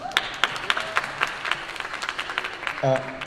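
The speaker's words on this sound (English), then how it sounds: "he deserves a big round of applause for that" Scattered applause from a conversation audience for a panel guest, uneven claps at moderate distance with voices murmuring and a short spoken sound near the end.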